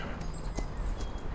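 Horse hooves clip-clopping at a steady walking pace in the game Reverse: 1999, moderately close over a constant background hiss, with no voices.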